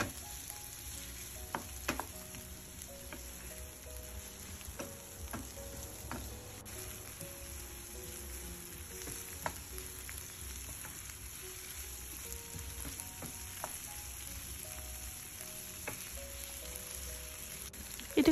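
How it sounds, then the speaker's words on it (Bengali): Onion and garlic fry in oil in a wok with a faint, steady sizzle, broken by occasional soft clicks and scrapes of stirring. "সে একই সেম কড়াইয়ের মধ্যে আপনার সেম তেলের মধ্যেই আপনারা পেঁয়াজ আর রসুনটাকে নেড়েচেড়ে একটু ভেজে নেবেন।"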